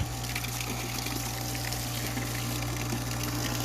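Homemade airlift pump driven by an air stone, pouring water steadily into a bucket: a continuous loud gushing, splashing flow with a steady low mechanical hum beneath, no talk.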